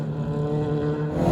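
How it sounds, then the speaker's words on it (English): Pre-war Talbot race cars running at the Goodwood Members' Meeting, a crisp, steady engine drone held loud and close through the moment with no pause. "The familiar apple green colours of the Talbots that are sounding very crisp"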